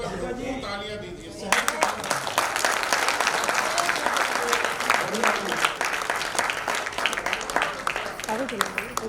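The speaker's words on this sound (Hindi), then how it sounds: "इस पोएट की मैं रिक्वेस्ट करता हूँ, एक बार भरपूर तालियां दीजिए" An audience at a Hindi poetry gathering applauds a poet with dense, sustained clapping that begins after a short spoken line and carries on steadily and fairly loud to the end.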